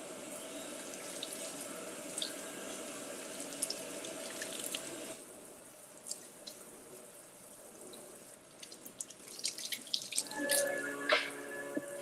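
A kitchen tap runs as fruit is rinsed beneath it, giving a soft, steady flow of water with a few drips and splashes, close by and fairly quiet.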